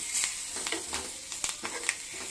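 Spices crackle and pop in hot oil as a tempering for neem-flower rasam, a bright sizzle punctuated by irregular sharp spatters, close up and fairly quiet, with no talking.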